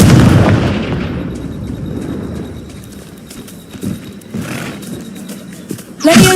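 The Confringo fire blast spell from Hogwarts Legacy bursts out in a loud, broad rush that fades into a rumbling tail, with a second sharp blast cracking in near the end.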